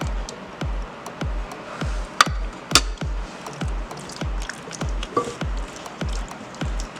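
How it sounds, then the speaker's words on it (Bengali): Hands squish and slap a spice marinade into tandoori chicken in a steady, repeated rhythm of soft wet thumps, close up with faint background hiss and no talking. "এবার আমি একটু হাত দিয়ে মাখিয়ে নেব মশলাটা।"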